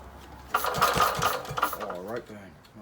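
A WING vintage stationary engine idles in the background with a low, rhythmic putter, while someone talks over it at close range.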